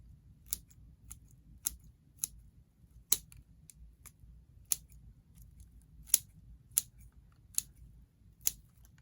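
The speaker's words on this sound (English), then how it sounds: "then we're just going to cut the roots back" Shears snip back the roots of a cascade bonsai tree in a dozen or so crisp, quiet, close cuts spaced irregularly over a faint low background hum.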